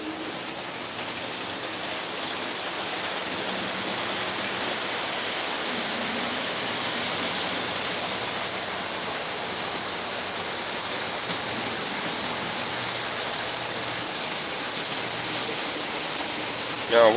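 Steady rain falling outdoors around an O gauge model train layout, a constant broadband hiss that stays even and fairly loud throughout with no voices.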